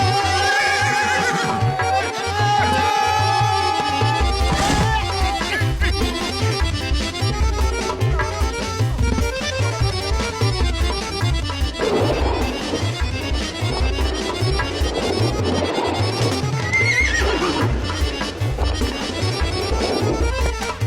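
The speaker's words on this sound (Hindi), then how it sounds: "ऐसा लगा जैसे घोड़ा हंसा।" A cartoon horse lets out a loud, whinnying neigh, like a laugh, over busy background music and rhythmic thumping, with no talking.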